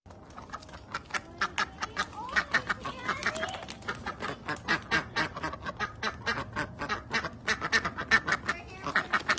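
Dense, rapid quacking from a flock of ducks and geese, overlapping calls close by with a constant busy rhythm.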